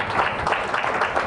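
An audience claps hands together during a church ministry gathering, a steady continuous patter of many hands at moderate loudness, close and filling the space without pause.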